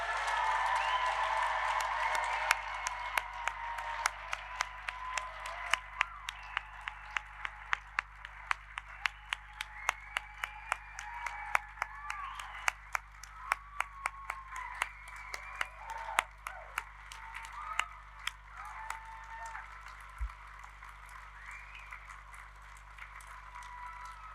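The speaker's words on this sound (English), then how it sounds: "let's give this amazing group of people one last huge round of applause with bells and whistles and whoops" Audience at a university degree ceremony applauding graduates, a long spread-out stretch of scattered sharp claps with occasional cheers and whoops, heard from a distance in a large hall.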